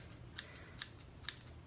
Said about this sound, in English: And just take your scissors